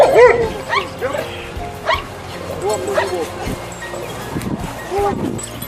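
A Macedonian shepherd dog (Karaman) barks at a dog show, giving a series of sharp, loud barks and yips at irregular intervals, close by, with people talking in the background.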